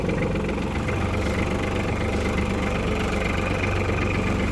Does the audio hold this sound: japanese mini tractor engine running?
yes